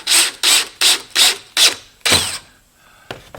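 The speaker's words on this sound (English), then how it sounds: "Let's go ahead and put the tight thread screw in here" A fine-thread pocket hole screw driven into poplar with a drill, about six loud close bursts of whirring in a stop-start rhythm, the last one longer, then a short tail.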